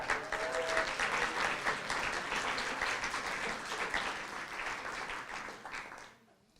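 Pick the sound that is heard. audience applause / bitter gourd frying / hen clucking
audience applause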